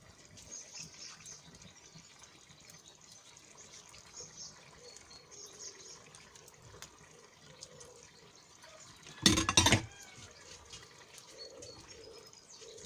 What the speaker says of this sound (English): Now we add more water